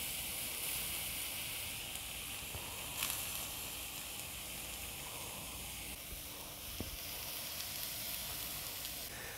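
Food sears in a non-stick pan with a soft, continuous sizzle and hiss, fairly quiet and steady, broken by a couple of brief clicks as it is turned.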